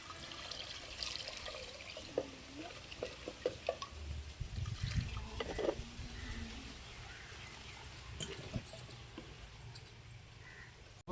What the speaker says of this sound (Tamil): இப்போ வந்து தண்ணி ஊற்றிக்கலாம்.